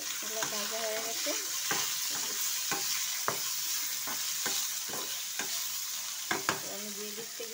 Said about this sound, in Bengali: আমার এগুলো ভাজা হয়ে গেছে